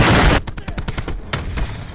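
Hellstorm strike in a Call of Duty Black Ops 3 style shooter: a loud opening blast, then a rapid string of sharp explosive bursts, and a second heavy impact partway through, with no talking.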